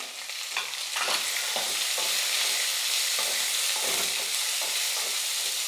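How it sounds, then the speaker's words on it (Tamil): Onion and carrot sautéing for chutney in a pan, a steady loud sizzle broken by repeated scraping stirs of the spatula, with no voices. "இதெல்லாம் நல்லா வதக்கிக்கலாம்"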